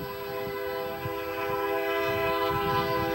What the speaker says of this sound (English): typical of Gladstone, the train going through town